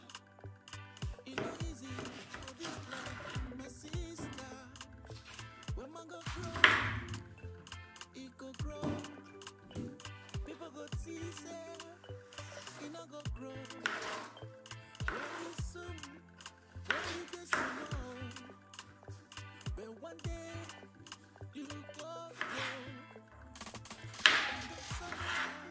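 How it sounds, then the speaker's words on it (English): Knife cutting through a washed cucumber half on a board, a loose series of soft taps and chops, quiet and close, with irregular spacing and a few sharper clicks among low background hum. "Now we'll be cutting cucumber, but I'm going to be using half of it."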